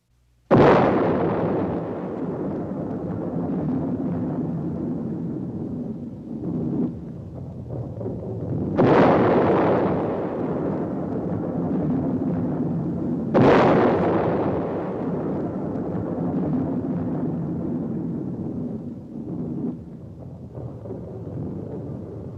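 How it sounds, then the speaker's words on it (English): Three booming blasts from an atomic bomb explosion, each a sharp loud onset followed by a long rumbling roll that lingers, with no voices. "The world was deeply shocked by the first atomic explosion."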